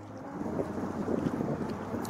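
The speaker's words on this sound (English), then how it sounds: "Wind's starting to pick up a little bit, as you can tell." Gusty wind buffets the microphone outdoors beside a fishing pond, a steady, close rumbling roar that runs the whole way through with no voices.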